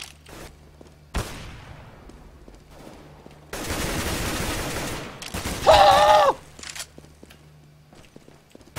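Gunfire in the video game Counter-Strike: Global Offensive: a sharp shot, then a long sustained burst of automatic fire and a second loud burst, with clicks and footstep-like taps between.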